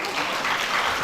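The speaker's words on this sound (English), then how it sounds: "Please, a lot of applause for her" Audience applause for a speaker at a women's forum in Katsina State, a loud, dense burst of many hands clapping together, steady and close throughout the brief moment.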